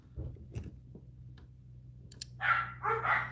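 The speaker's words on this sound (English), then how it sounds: "Mac is barking at things and stuff." A dog barks in a few short bursts near the end, after quieter knocks and taps, in a home workshop where a gold coin is being made into a ring.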